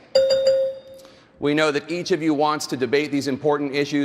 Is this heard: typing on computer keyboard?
no